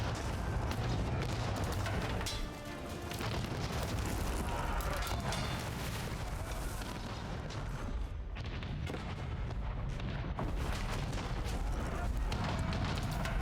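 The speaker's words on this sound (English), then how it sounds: "I have to say the cannons make a very satisfying sound" War galleys fire cannons in a video game naval battle, a dense, loud barrage of booms and blasts rolling almost without pause, with heavy low rumble and crackling debris throughout.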